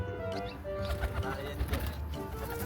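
Brown pigeons coo in a botanic garden in Dunedin, low soft calls repeating under steady outdoor background noise, with people talking nearby.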